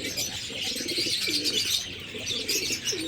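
A pigeon coos softly and repeatedly at close range, with faint chirping and outdoor ambience in the background.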